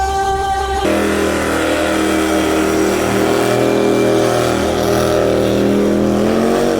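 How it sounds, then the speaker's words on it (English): A clapped-out supercharged 4.8-litre Mercedes-Benz engine with its blower poking through the hood, said to make 700 horsepower, roars loud and close at a street car takeover burnout event. It jumps in suddenly, then holds a steady, sustained howl. "I see a clapped out Benz with a blower sticking through the hood"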